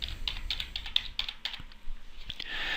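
A password being typed on a computer keyboard: a quick run of close, crisp key clicks in an uneven rhythm, pausing briefly before a final few taps and a steady hiss.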